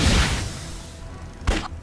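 A muffled video game explosion in Emergency 4 rumbles out at the start and fades, followed by a sharp thump and brief rush of debris, loud and low.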